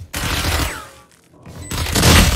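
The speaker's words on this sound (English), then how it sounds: "Placing swarm grenade." Killjoy's swarm grenade bursts in Valorant with dense, loud crackling blasts that fade briefly and then surge again, close and harsh, mixed with game effects.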